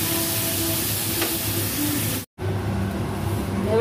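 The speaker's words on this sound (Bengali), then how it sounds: "এবার আমি এতে জল দিয়ে দিলাম।" Spiced curry base frying in a pan as water is poured in, giving a steady broadband sizzle and hiss that cuts out briefly, then returns, with a low background rumble.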